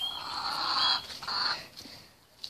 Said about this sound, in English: That cockle there is a silky cross cockle.